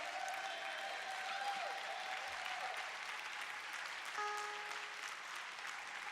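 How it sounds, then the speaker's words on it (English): Steady round of audience applause for a visiting West African president at a public gathering, dense clapping sustained throughout at even volume, with a few brief tonal sounds near the end. "Give him a loving round of applause."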